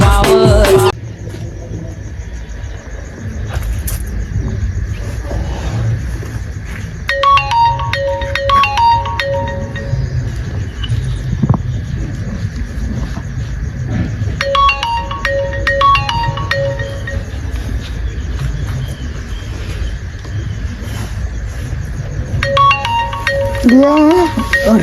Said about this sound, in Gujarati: અડધી રાતે કોનો ફોન આવ્યો લે?